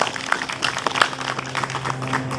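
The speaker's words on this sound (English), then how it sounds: "we should give Bob and his committee a big round of applause" Brief burst of crowd applause at an Irish Heritage Day plaque unveiling, a dense patter of many hands clapping, moderately close, sustained and fairly even for a couple of seconds.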